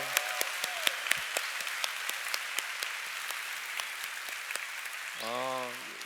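Church congregation at a family retreat applauds steadily, a broad wash of clapping with sharp individual claps standing out, tapering before a brief voice near the end.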